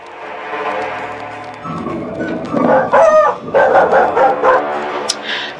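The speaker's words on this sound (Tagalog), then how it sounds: "Sa gabing yun ay mas lalong naging agresibo ang tunog ng mga aso." Several dogs bark and yip excitedly at close range, overlapping in quick bursts, with some whining mixed in.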